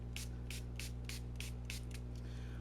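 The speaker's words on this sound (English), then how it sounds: "When you spray water onto cardstock, it is going to curl" About nine quick hissing spritzes of water from a spray bottle onto decorative-edged cardstock, evenly spaced and close, over a faint steady background hum.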